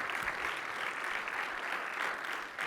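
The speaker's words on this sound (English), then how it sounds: "I think that deserves a little clap up for our Partner of the Year award winners" Steady applause from a crowd, dense and even throughout with no pauses, fairly close and moderately loud.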